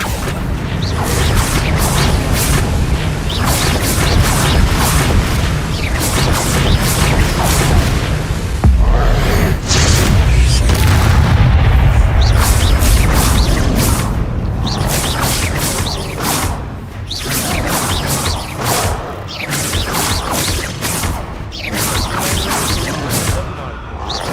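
Hogwarts Legacy spell blasts from Confringo and Bombarda go off in quick repeated bursts of booms and crashing impacts over mechanical clatter, loud and dense, with a voice calling out spells throughout.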